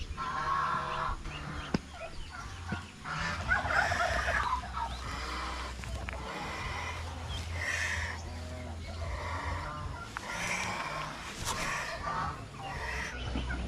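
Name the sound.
turkeys gobbling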